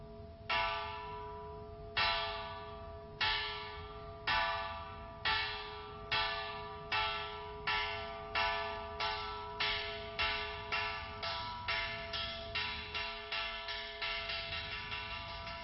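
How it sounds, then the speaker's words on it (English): Evening monastery church bell tolling to call monks to prayer, about twenty ringing strikes that start slow and quicken, each with a long humming decay, steady and alone. "As the evening bell calls the monks to prayer"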